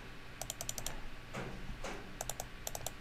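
A computer mouse double-clicks repeatedly to select text, giving short groups of crisp plastic clicks in quick pairs, close-up and fairly quiet over faint room noise.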